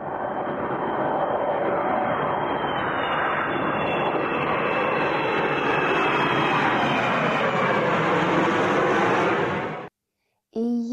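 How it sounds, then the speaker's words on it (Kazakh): An airplane flies overhead as a sound effect, a loud, steady roar of aircraft engines with a rising whine that sustains for about ten seconds, then cuts off abruptly before a voice begins. "Ұшақпен саяхаттауға болады."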